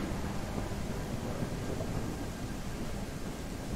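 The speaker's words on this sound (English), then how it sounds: "this is a actual proper thunderstorm with the super bright lightning that has delay on the thunder" Thunderstorm in the dinosaur survival game The Isle: low rumbling thunder rolls steadily beneath a constant wash of rain and wind, fairly faint and unbroken, with no talking.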